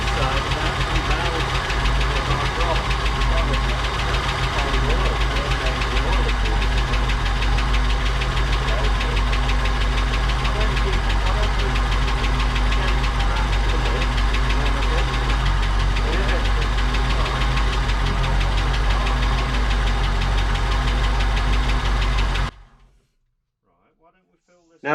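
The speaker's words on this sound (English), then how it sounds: "Now that the car runs" A 1959 Cadillac V8 engine runs steadily with a low rumble and mechanical knocking, loud and continuous for over twenty seconds before cutting off abruptly into near silence.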